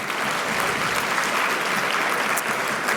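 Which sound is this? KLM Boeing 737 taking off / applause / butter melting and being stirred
applause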